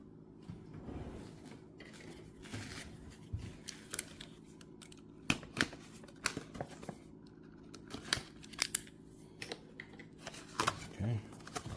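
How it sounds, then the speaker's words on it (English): Protective stickers peeled and torn off the sides of a Gillette 5-blade razor box, giving a run of close, crackly rips and scratchy paper-and-plastic rustles with small handling clicks, over a low steady background hum. "get these stickers removed on the side here"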